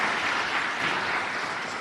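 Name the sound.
audience applause for dispatchers and violence prevention staff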